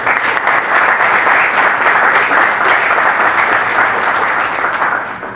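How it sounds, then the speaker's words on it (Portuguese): Sustained applause from an event audience for the organizing team, a dense, steady wash of clapping filling the room and holding loud for several seconds before easing slightly at the end. "Queria pedir uma salva de palmas para a equipe de organização."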